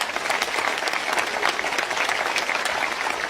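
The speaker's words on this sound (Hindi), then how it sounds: "ताली।" A crowd at a political rally claps loudly and continuously, dense sustained applause without a break.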